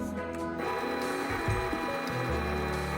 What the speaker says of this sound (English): Now I'm ready to start sewing.